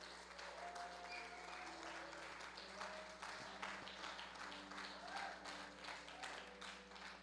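A church congregation applauding, steady continuous clapping from a crowd with faint voices and tones mixed in, fairly distant and even throughout.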